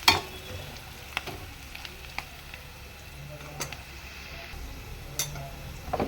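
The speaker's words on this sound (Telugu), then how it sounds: "ఉల్లిపాయలు బాగా మగ్గిపోయినాయి." Chopped onions soften in a hot pan for a tomato and colocasia curry, giving a faint, steady sizzle with a few scattered ticks and clinks of a spoon, alone and without speech.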